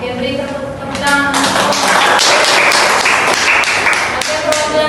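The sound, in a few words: class clapping hands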